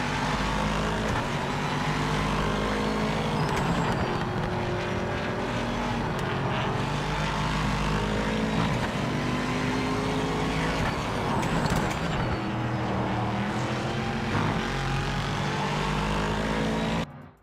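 Race car engine from a racing video game, droning loudly and steadily through a chicane section with shifting revving tones, then cutting off abruptly at the end.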